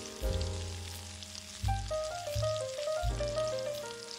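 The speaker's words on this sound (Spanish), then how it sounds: "añadimos las pechugas marinadas. Las freímos hasta que estén un poco doradas" Marinated chicken breasts fry in hot olive oil in a wok, a steady loud sizzle and crackle with occasional clinks and stirring thuds underneath, with no talking.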